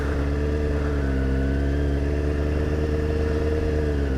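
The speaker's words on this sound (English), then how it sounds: "Oh, I see another brother on a bike." Sport motorcycle, a Kawasaki 636 of around 2005–2006, heard on the road as a steady, fairly loud engine drone with a clattering mechanical edge that holds for the whole stretch, with no talk over it.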